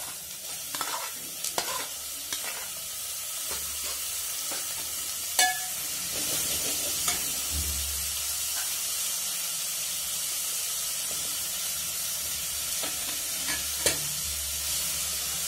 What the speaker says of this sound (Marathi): तुम्हाला व्यवस्थित कालवून घ्यायचं आहे